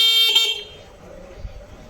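A short vehicle horn blast sounds near and loud for about half a second, then cuts out, leaving faint low rumbling and quiet handling noise.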